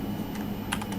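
Quick typing on a computer keyboard while writing HTML code, a short burst of a few close key clicks over a low background hum.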